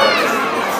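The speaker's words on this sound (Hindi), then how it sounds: "कम से कम हज़ारों लोगों की संख्या में यहाँ भीड़ इकट्ठा हुई है" A large crowd of pilgrims at a jalabhishek procession cheers and shouts together, a dense, loud roar of many voices with high-pitched calls running steadily through the whole moment.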